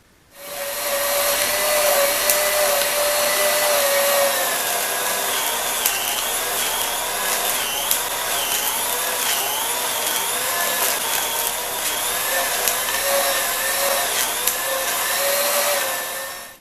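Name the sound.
grinder grinding silicone mold rubber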